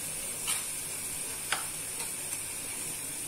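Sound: vegetables sautéing in a pan

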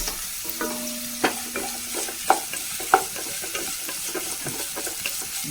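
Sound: sautéing cubed onion in a pan

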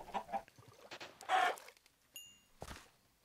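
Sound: chicken in the video game Minecraft

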